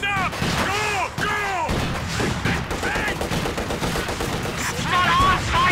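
Dense battle gunfire and heavy weapon fire from Company of Heroes 2, fought in a snowy winter setting, rattling in loud continuous bursts with voices calling out over the din.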